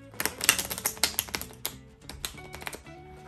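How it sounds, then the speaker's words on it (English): A fancy roulette deck of playing cards being shuffled by hand, a close series of quick dry riffling clicks and taps in uneven bursts, with a brief pause near the two-second mark. "Now, I'm just going to shuffle cards."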